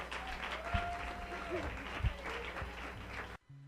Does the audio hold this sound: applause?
yes